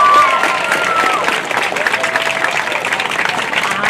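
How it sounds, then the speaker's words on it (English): Sustained audience applause for an elementary school class at an awards ceremony, dense steady clapping from a crowd with some voices mixed in. "All right, can you give my class a round of applause?"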